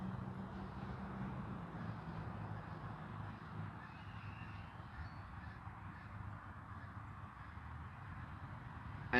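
Crows cawing outdoors, faint and distant calls scattered through a low steady ambient hum, with a brief louder knock at the very end.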